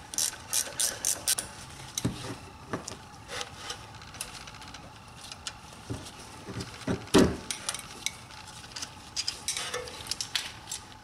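A 13mm ratchet works the brake caliper bolts on a BMW 5 Series rear brake, clicking in repeated bursts of pawl ratcheting with short pauses and a louder clack around the middle, close and alone without talk.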